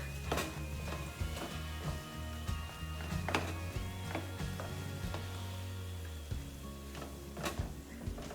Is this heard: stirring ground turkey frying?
yes